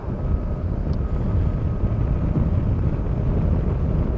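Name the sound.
wind noise inside motorcycle helmet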